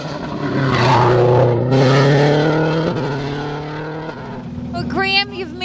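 A Subaru WRC rally car on a special stage of the Manx National Rally roars past loudly, its engine revving up and down through gears with rising and falling pitch before it fades away.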